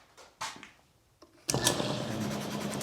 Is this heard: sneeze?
no